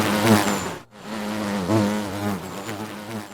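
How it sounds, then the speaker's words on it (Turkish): A bee buzzes loudly and close by, its droning hum wavering in pitch as it circles, with a brief break in the middle. "etrafında uçan arının sesiyle irkilir"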